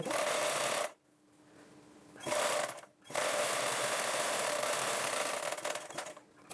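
A sewing machine stitches blouse fabric in loud, continuous whirring runs, stopping briefly twice before starting again, with no talking.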